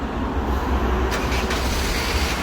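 A 2008 Honda Civic starts by remote start and runs at a steady, close idle, a loud continuous engine rumble with brief faint clicks partway through.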